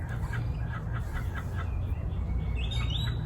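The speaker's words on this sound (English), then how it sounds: "We have a kookaburra joining us here," A kookaburra calls outdoors, its repeated cackling bird calls rising over steady low background rumble across the whole stretch, fairly distinct but not close.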